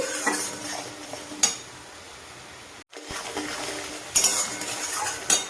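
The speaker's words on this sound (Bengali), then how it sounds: "জলটা মরে খুব ভালো করে এটাকে কষবো।" A tomato and onion paste is stir-fried in a pan until its water cooks off, with a steady soft sizzle under repeated scraping and clinking of a utensil against the metal. A brief pause falls midway, then louder stirring strokes return.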